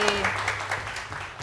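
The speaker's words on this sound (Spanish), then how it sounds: "Mira, un aplauso al chico." Brief burst of studio audience applause on a Spanish-language television show, a dense clapping wash with a voice speaking over it.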